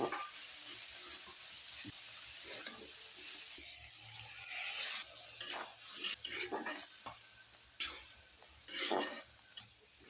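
Food sautéing in a pan, quiet and muffled at first, then stirred with several sharper scraping clacks and bursts of sizzle toward the end, no voices.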